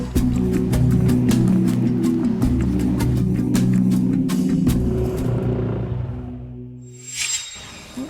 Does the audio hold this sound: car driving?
yes